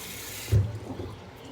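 Hot tap water runs over a head of organic purple cabbage in a sink: a steady hiss of water for about half a second cuts off abruptly, followed by a low thump and quieter handling sounds.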